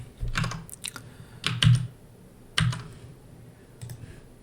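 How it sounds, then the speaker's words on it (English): Several separate keystroke clicks on a computer keyboard, close and sharp, come in short irregular bursts with pauses between them. "So now we can type in the name of the NFT, and we can click next."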